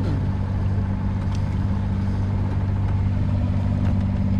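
A sailboat's inboard engine runs steadily at sea, a constant low droning hum with faint water wash over it, close and unbroken for the whole stretch.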